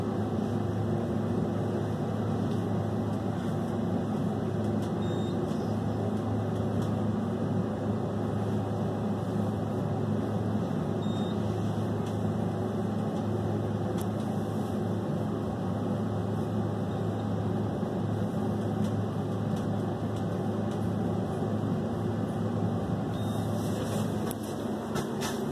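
KONE elevator motor running in a machine room, a steady low hum with a constant electrical drone that holds evenly throughout, with no talk.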